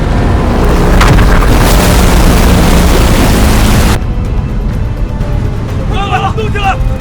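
Loud, sustained rumbling blasts of bombing boom continuously in a sci-fi drama scene, then cut off abruptly into a quieter hum with people talking.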